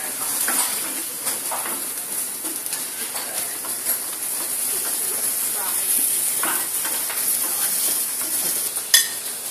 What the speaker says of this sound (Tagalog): It takes time to caramelize onion or caramelize the onion.